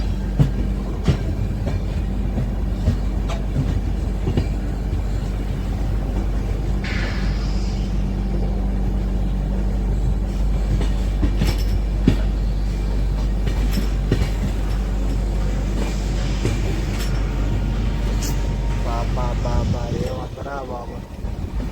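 The Visakhapatnam–Araku passenger train with its Vistadome coach rolls along the rails with a continuous low rumble and intermittent wheel clatter. Faint voices can be heard inside the carriage.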